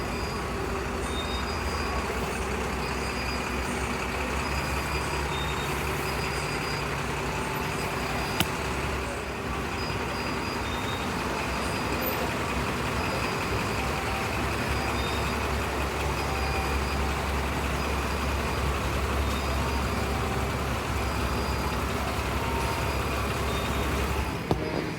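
A brand new premium bus speeds along the highway from Palakkad toward Coimbatore, filling the cabin with a constant loud engine drone and road roar and no talking.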